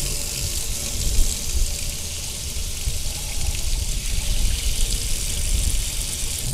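Water runs steadily from a hot-and-cold tap into a fish-cleaning sink at a Danish motorhome campsite, a close, continuous gushing splash with no talk over it.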